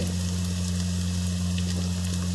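Garlic, ginger, sliced onion and potato frying in a pan after mustard seeds are tempered, giving a steady, even sizzle close by with a constant low hum and no talking.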